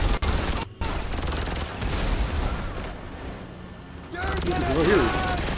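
Bursts of gunfire from GTA 5 Online sound over a busy game mix, loud at the start, then a stretch of background din and a swelling burst near the end, with voices mixed in.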